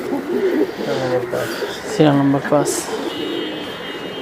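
Silver giribaj pigeons of the chharachhari line give a couple of throaty coos while someone speaks over them, with a faint hum underneath.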